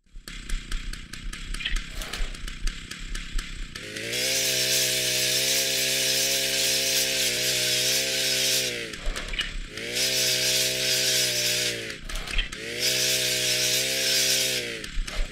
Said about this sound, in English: active chainsaw. He has a mechanical layer with a scattered sound module